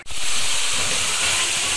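Chicken liver (kaleji) roasting in a pan for a dhaba-style masala kaleji gives a steady, loud, continuous sizzle that holds evenly throughout with no voices.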